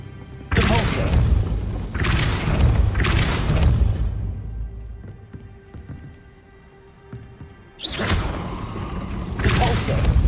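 Depulso spells cast in Hogwarts Legacy land as a series of loud, forceful blasting booms with crashing impacts, several in a row, then a quieter pause before two more bursts.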